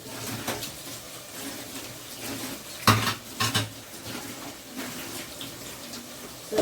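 A spoon scrapes and clinks against a cooking pot as food is stirred, with scattered metallic knocks, one louder clatter midway, and faint watery sounds, close and moderately quiet with no talk.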